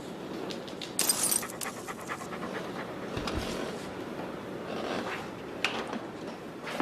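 A dog pants in an anti-marijuana commercial, a quick, steady rhythm of breathy huffs close to the microphone. Faint jingling and rustles sit underneath, and no one speaks.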